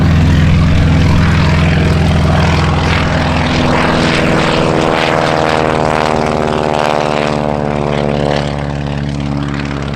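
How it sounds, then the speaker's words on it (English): A propeller airplane takes off on runway 36 left at EAA AirVenture Oshkosh, its engine roaring loud and steady with a throbbing prop buzz that shifts pitch as it powers away. "runway 36 left, clear for takeoff"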